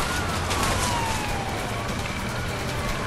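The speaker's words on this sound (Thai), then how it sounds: "รถตำรวจ" A police car siren from the video game A Way Out wails in slow, sweeping tones, half buried beneath a loud, constant roar of engine and road noise.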